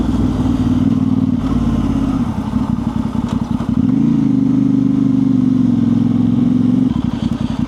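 A motorcycle on a road in Morocco revs and accelerates loudly up close, its engine note climbing and holding steady with some rattling clatter, no talking over it.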